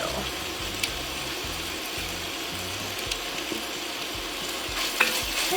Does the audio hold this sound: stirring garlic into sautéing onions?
yes